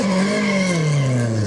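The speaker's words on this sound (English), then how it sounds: "Car about to head out track." Race car heading out on track at Silverstone during a summer classic event, a loud close engine note with a steady tone that drops slightly in pitch as it pulls away, heard alone.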